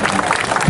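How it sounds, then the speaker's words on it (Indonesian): A brief burst of crowd applause at an outdoor community fun-walk gathering at Taman Mini Indonesia Indah (TMII), dense, even clapping filling the whole moment, fairly loud and close, with no talk over it. "Tepuk tangan dulu ya"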